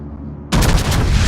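Naval gunfire in a World of Warships battle: after brief near-silence, a loud broadband blast erupts and rolls on as sustained rumbling cannon fire with no talk.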